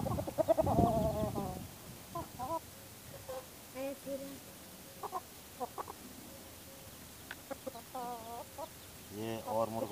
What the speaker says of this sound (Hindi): ये इन दोनों मुर्गों से सारी मुर्गियां डरती हैं।